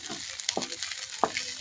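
Chopped oregano leaves drop into a frying pan with sautéed patola and chicken, giving a quick burst of sizzle with a few sharp spatula scrapes and taps, close and brief.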